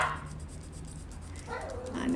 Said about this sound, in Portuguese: minha cachorrinha tá querendo alguma coisa